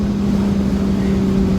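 A loud Mazda RX8 rotary engine runs in a steady, buzzing drone with a strong humming pitch. It is close and continuous, with faint wind noise.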